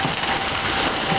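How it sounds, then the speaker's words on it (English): Hail pelting down during a severe storm that brought tornado sirens, a dense, continuous roaring patter with no breaks, loud and close. "This storm means business, and now it's starting to hail again."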